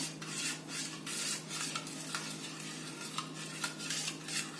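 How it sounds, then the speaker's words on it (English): Salt being stirred into water to dissolve it for a cucumber pickle brine, heard as soft repeated scraping and swishing strokes in a container, faint against a low steady hum. "Okay, so mix it and mix it until it's all dissolved."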